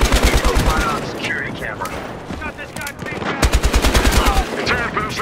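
RPK machine gun firing in Battlefield Hardline on the Derailed map: rapid sustained bursts, loud and close, with gaps between volleys and game voices talking beneath the gunfire.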